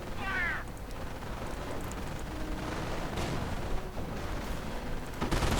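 Sniper and rifle gunfire from a World War II real-time strategy game battle, with riflemen, grenadiers and machine guns fighting. The gunfire forms a steady, dense wash of shots and distant blasts, with brief sharp bursts near the start and end.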